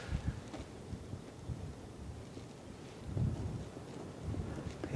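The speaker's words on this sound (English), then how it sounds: "there's a gust of wind really kicking in at the moment" A gust of wind buffets a microphone outdoors near coastal headlands during plein air painting, rumbling in low, uneven bursts that swell in the middle and again toward the end, fairly faint overall.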